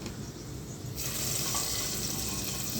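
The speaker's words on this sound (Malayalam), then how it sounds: "നാഗമുന്തിരി നമുക്ക് വറുത്ത്" Soft frying sizzle that suddenly grows louder and more crackling as raisins hit hot oil, continuing steadily.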